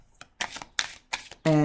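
Tarot cards are shuffled by hand in a few quick riffling bursts at close range, soft and papery, followed by a short buzzing tone at the end.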